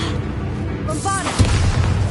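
A Bombarda explosion spell goes off in Hogwarts Legacy, a sudden deep boom with a rumbling tail right after a short magical whoosh, loud and close.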